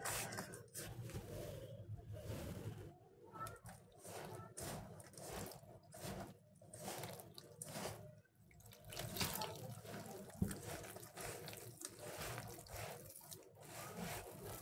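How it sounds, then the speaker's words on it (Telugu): Water poured from a tap into a bowl of spiced lentil-fritter dough with coriander, a steady close splashing and running stream with mixing and rubbing sounds through the whole stretch. "మిక్స్ చేసుకున్నాం కదా, కొద్దిగా వాటర్ వేసుకుంటా కలుపుకుందాము."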